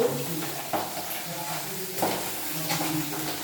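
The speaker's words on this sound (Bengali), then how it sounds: "কি ফুটছে মাছগুলো" Pabda fish curry simmering in a pan, a soft bubbling and faint sizzle with occasional scrapes of a spoon stirring against the pan, close and quiet.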